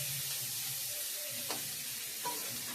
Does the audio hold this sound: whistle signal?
no